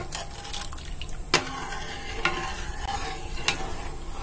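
Rice cooking in a pot for kheer is stirred steadily, with a wet bubbling sizzle and several sharp knocks of the spoon against the pot's side. No voices are heard.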